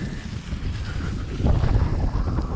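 Strong headwind buffeting the microphone while cycling along a damp trail in icy conditions, a loud continuous low roar that swells in the second half.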